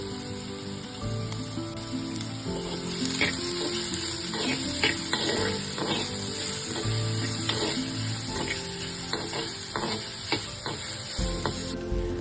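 Onions with salt sauté in a pan for a beef dish, a steady close sizzle with repeated scraping stirs of the utensil against the pan; no talking.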